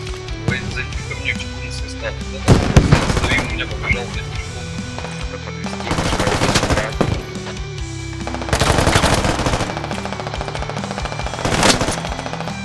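Bursts of rapid automatic gunfire come in several loud volleys in a Squid Game video game, with engine rumble and other game sounds underneath, while voices talk over it.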